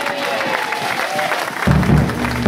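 A church congregation at a retreat service applauding in praise of God, a brief burst of clapping that swells and thickens toward the end, close and fairly loud.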